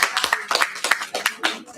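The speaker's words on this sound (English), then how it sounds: "Can we give a loud applause" A small group at a SACCO breakfast meeting claps in loose, uneven bursts, close by, with a few distinct hand claps standing out for under two seconds.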